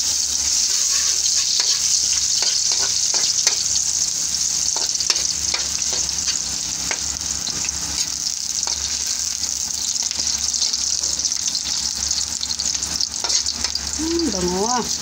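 Ginger sizzles and fries in a pan for leftover fried rice, a steady bright hiss with scattered spatters and stirring scrapes, close and continuous, with a short squeaky sound near the end.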